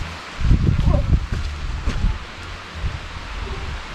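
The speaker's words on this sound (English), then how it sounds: "It's rainy, it's windy" Wind gusts through the trees of a tree farm in rainy weather, heavy rumbling buffets around the microphone with rustling that swells and fades, loudest early on.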